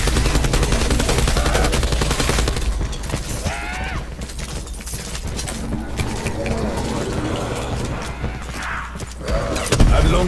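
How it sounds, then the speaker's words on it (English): Rapid gunfire and blasts in a video game, with bots fighting in an Easter egg attempt, loud and constant, mixed with game effects and background music. "I've long become numb to the sound of explosions."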